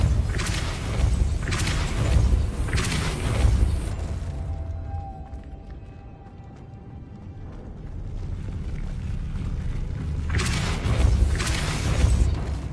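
A Depulso spell is cast in Hogwarts Legacy, giving deep booming whooshes in repeated bursts that fade to near quiet midway before swelling again with more heavy blasts, loud and close with no talking.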